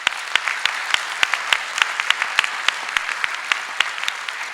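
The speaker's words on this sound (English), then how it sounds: "I think, again, they deserve a round of applause." An audience at an AI debate session claps for the panelists, a close, steady burst of applause with crisp individual hand claps standing out, with no talking over it.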